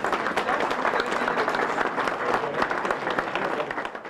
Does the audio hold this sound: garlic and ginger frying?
no